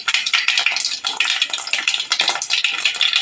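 Mustard seeds sizzle in hot oil in a pan with a close, loud, dense crackling and spitting that holds steady throughout, with bright popping bursts and no voices.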